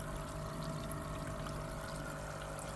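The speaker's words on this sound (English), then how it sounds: "That noise is coming from the pump and being transmitted through the air." Steady Hygger aquarium air pump hum with a continuous watery bubbling wash and a low mains-like drone, close and constant with no pauses.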